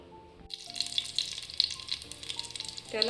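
Cardamom, cumin, chillies, cinnamon, black cardamom and cloves crackle and sizzle in hot oil for chicken biryani after a brief quiet start, a steady bright frying hiss with small pops, growing louder near the end.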